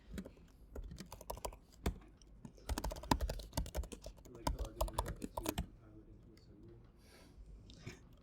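Quick bursts of keystrokes on a computer keyboard as a password is entered at a lab terminal, with irregular clusters of clicks and brief pauses, faint and close.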